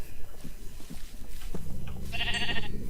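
Sheep bleating in the video game Minecraft, a short harmonic bleat near the end rising over a busy, noisy game background with other scattered clicks and thumps.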